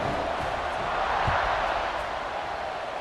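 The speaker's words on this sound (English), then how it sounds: "They're set to kick it off, and this crowd now ready to get behind them" Stadium crowd in EA Sports College Football 26 roaring steadily before a kickoff, a dense continuous wall of cheering with a few faint thumps underneath.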